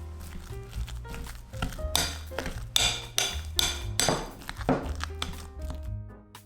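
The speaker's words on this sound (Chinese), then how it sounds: "把土豆捣成土豆泥儿" Boiled potatoes being mashed by hand in a bowl with milk, giving repeated soft thumps and squelchy crinkling scrapes in an irregular rhythm, close and fairly loud, with no talking.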